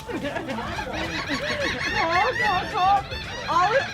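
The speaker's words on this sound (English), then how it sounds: "All of these seagulls are hungry because they're cleaning the fish behind us." Several seagulls call and squawk close by in overlapping cries behind fishermen cleaning snapper, with voices chattering underneath.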